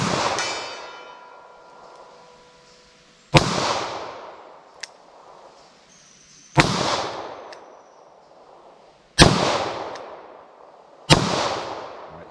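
A Taurus 905 9mm revolver firing 124 grain rounds in single action gives four loud, sharp shots spaced a few seconds apart, each followed by a ringing echo that fades outdoors.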